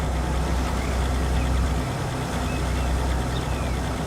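Steady low idle of a Kenworth truck engine in Transport Fever 2, a continuous deep rumble held at an even level with no talk.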